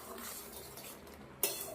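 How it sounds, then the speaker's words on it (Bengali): Oil-free sweet, sour and spicy mango pickle is stirred with vinegar in a pan, giving a steady close scraping and rustling with one sharp metallic clink near the end. "এবার মিশিয়ে দেবো।"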